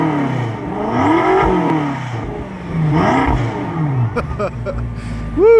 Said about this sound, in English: Let's do some rev time with Trish.